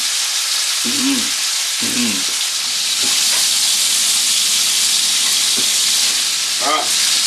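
Food sizzles and spits steadily in a hot pan as it browns and caramelizes, a loud continuous hiss with a few brief clinks of a utensil stirring.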